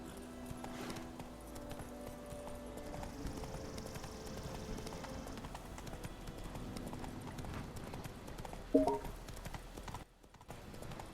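Horse hooves clip-clop steadily at a gallop in The Witcher 3 video game, a continuous rhythmic pounding with game ambience that cuts out briefly near the end.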